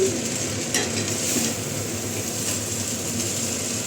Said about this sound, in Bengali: আর একটু ভাজবো না এটা না ভাজলে হয় ভালো করে